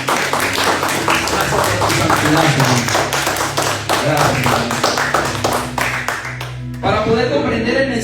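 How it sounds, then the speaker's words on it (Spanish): A church congregation gives a strong, dense burst of clapping that carries on for several seconds before fading, followed by a spoken word of thanks. "¿Quién le puede brindar un fuerte aplauso al Señor?"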